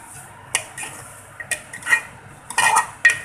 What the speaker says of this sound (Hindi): और इसको अच्छे से हिला देंगे।